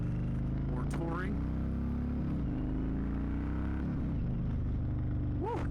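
An Indian Chieftain motorcycle in sport mode gives a steady, loud low engine rumble with wind noise while riding, and someone talks over it at moments.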